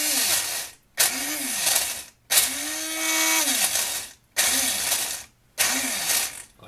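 A household blender, its loose part glued back with super glue, grinds clear recycled PET plastic pieces in five separate bursts, each rising into a loud whirring, rattling roar with falling motor pitch before cutting off.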